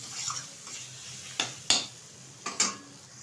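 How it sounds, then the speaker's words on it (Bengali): Ginger-garlic masala sautéing in a pan crackles faintly and softly throughout, punctuated by about four sharp clinks of a utensil against the pan in two pairs, close by and without talk. "আবারও একটু কষিয়ে নেব। 1 থেকে 2 মিনিট মতো কষিয়ে নেব"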